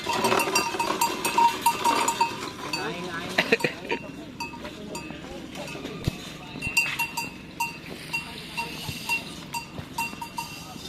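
Racing bulls wearing cowbells at a karapan sapi training session in Pamekasan, with scattered clanking bells and animal noises at mid distance under frequent talk from people nearby.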